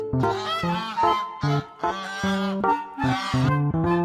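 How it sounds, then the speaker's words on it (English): A farm goose gives a series of loud, close honks, roughly eight brassy calls in an uneven rhythm with brief gaps, nothing else audible. "goose"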